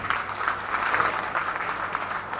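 A crowd at a political rally in Modasa applauds in a dense, steady wash of many hands clapping, fairly loud and continuous without a break.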